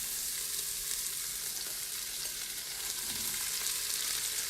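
Onions and peppers sauté in fat in a multi-cooker pot, giving a steady, dense hiss of sizzling that holds level throughout at close range. Faint stirring sounds come underneath, and no one speaks.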